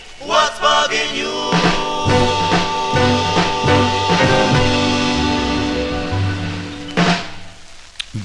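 A 1955 doo-wop vinyl record, with full vocal harmonies and band playing continuously at moderate level, ending in a brief pause.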